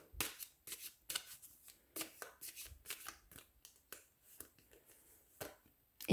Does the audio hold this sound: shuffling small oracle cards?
yes